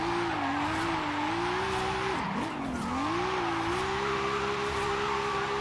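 A race car drifts in Forza Horizon 5, its engine droning continuously, the pitch dipping and rising as the tires squeal through a slide, loud and close with no talking.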